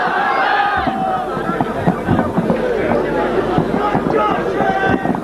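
Crowd at a religious conference roaring its response to a Naara-e-Takbeer chant, many voices shouting together in loud, ragged bursts that swell and overlap throughout.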